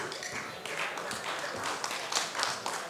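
Crowd clapping at a Congolese independence anniversary gathering in Germany, an uneven wash of many hands with some sharper nearby claps, continuing steadily throughout.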